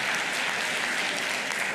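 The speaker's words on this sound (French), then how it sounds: "je vois que les sénateurs et sénatrices applaudissent." Senators applauding during the President of the Republic's state of the Nation address, a steady, dense wash of clapping that fills the whole stretch without pause.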